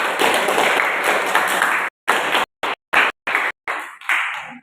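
Classroom applause for all the student groups, a dense burst of many hands clapping for about two seconds, then breaking into short separate clusters of claps that thin out and stop.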